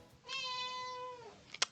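A cat gives one long, steady meow, clear and close, followed by a couple of brief clicks.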